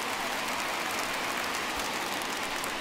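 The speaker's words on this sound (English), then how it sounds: "the conditions aren't ideal with the rain coming down" Steady rain pours down during a 2021 Major League Baseball game between Cleveland and Detroit, a constant even hiss with no voices.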